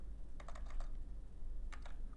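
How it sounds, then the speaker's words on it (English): Bursts of computer keyboard typing on a desk, quick clustered keystrokes in two short runs with a pause between, close and fairly quiet over a low background hum. "There goes my typing."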